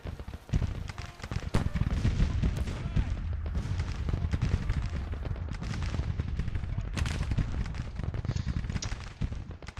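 Troops firing massed volleys in the strategy game Grand Tactician, a battle with continuous crackling musketry and distant booming shots layered into a dense, rolling din throughout.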